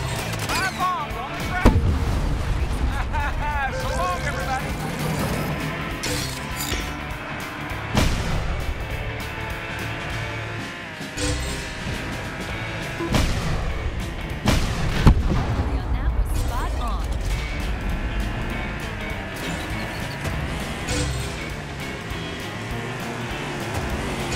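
Bombs go off repeatedly in the racing video game Cars 3: Driven to Win, sharp blasts scattered through engine noise and game music, loud and close, with voices talking over parts of it.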